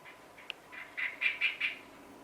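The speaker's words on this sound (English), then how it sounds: "These little birds seem to be desperate to get into this room for some reason." Small birds at a window in Thailand give a short series of four or five soft chirping calls, fairly close but quiet, with no talking.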